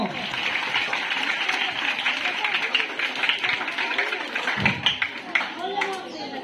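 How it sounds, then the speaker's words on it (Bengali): Applause from the participants of a Gita class: a dense, steady patter of many hands clapping at fairly close range that carries on for about six seconds, with voices mixed in. "একটা হাততালি হবে সবার জন্য"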